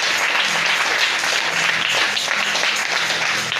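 A church congregation gives a dense, sustained round of applause that stays loud and even throughout, with no talking.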